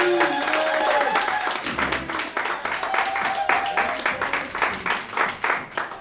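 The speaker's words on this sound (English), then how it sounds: "Let's give a warm applause for Rebecca for being us on." An audience applauds at a water protector benefit event, steady clapping with some cheering, and a voice speaks over it.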